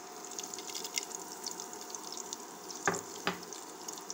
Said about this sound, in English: The oil is hot enough, so I am going to add rest of this dry masala.